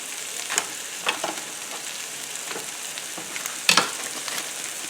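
Sliced Steak-umms sizzle and fry in a pan with peppers and onions, a steady crackling hiss with occasional sharper pops and stirring clatter, close and without talk.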